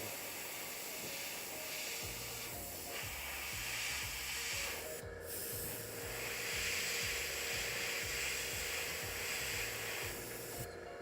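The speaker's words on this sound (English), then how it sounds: "Work on my airbrush control." Steady airbrush hiss spraying a light-colored paint, continuous and close, with brief pauses in the airflow, under a low repeating musical background.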